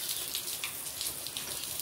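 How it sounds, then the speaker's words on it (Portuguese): Steady rain hisses down in a continuous, close wash of drops as a Canindé macaw bathes under it beneath a dripping roof gutter, with no voices. "Que banho de chuva mais gostoso"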